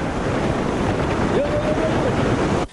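Giant ocean waves surge and crash on the shore in a coastal town, a loud continuous roar mixed with heavy wind buffeting, and a faint tonal sound drifts through partway.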